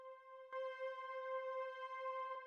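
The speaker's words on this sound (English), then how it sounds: "the saturator is just fattening it up a bit" Sustained ambient synth drone run through reverb and a saturator, a steady harmonic tone with soft swells and a couple of brief clicks, played quietly and alone.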